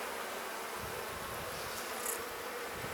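Honeybees buzz around a hive during a beekeeper's inspection of colony splits, a steady dense drone filling the whole moment at moderate level with no talk.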